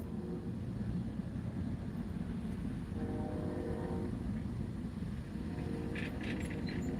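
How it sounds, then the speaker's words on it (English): A train passes by outdoors in rainy weather, a steady low rumble with a brief tonal hum in the middle, heard from a distance without any talking. "You guys hear the train?"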